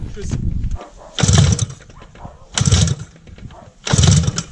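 A homemade dune buggy engine cranks and misfires, sputtering in three separate loud bursts that die away between attempts, close by, with a voice in the gaps.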